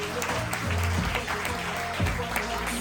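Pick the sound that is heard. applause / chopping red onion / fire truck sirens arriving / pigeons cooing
applause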